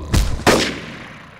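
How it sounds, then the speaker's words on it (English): Two sharp cartoon gunshots crack in quick succession, loud and close, with the second trailing into a fading echo and no talk over them. "A gunshot!"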